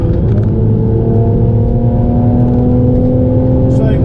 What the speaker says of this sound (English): I can just mash the throttle in Sport Plus mode and go.